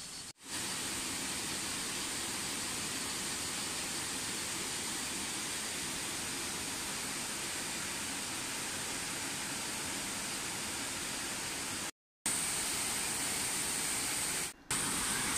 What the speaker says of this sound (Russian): Слышите мощный шум реки?